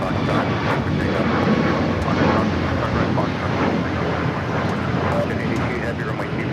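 A large airliner takes off from runway 25 Right at LAX, its engines roaring loud and steady throughout as a broad continuous rumble with no pauses.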